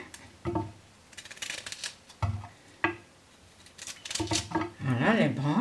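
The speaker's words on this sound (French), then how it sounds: "On coupe en petites rondelles" A knife slices cauliflower into small rounds, making a few sharp, close cuts and crunches spaced apart, followed by a busier flurry of cutting. Someone speaks near the end.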